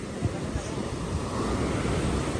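Strong ocean waves wash in at Saud Beach in Pagudpud, a steady roaring surf mixed with gusty wind buffeting the microphone, continuous and fairly close.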